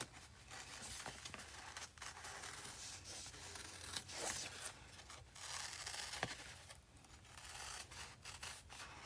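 Large scissors cut through quilting fabric for a garden window appliqué, giving close, continuous rustling and scraping with occasional sharper snips at a fairly quiet level, with no speech.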